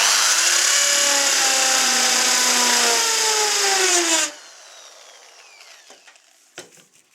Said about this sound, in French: Arrivé ici, à la partie noire de la mèche, ça va vous faire l'enchassage.